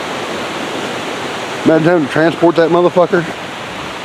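Steady broadband rush of a river flowing beneath an old footbridge on a Jones Gap hiking trail, continuous and fairly loud, with someone talking over it partway through.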